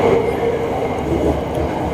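Bangkok SRT Red Line electric commuter train riding between Bang Bamru and Krung Thep Aphiwat, crossing the Prapa canal near Prachachuen Road: a steady, close rumble of the rail carriage interior with a continuous low roar, without talk.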